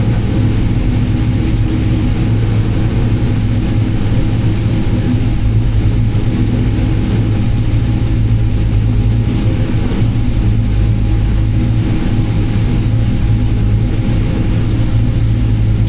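A V8 engine tuned with a Holley Terminator X idles steadily and smoothly, a loud, close, low rumble that holds even throughout with no hunting.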